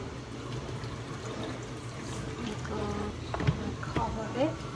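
Liquid poured into a blender for carrot juice with carrot and apple, a soft steady splashing stream rising slightly toward the end, close by under a faint voice.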